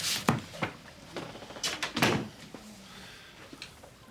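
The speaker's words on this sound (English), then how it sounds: "Shut the door" A door is shut in an office where a constable is present: several sharp knocks and bumps of wood and handle, a firmer thud near the middle, then quieter handling noises, with no speech.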